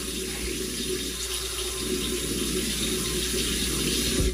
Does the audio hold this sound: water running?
yes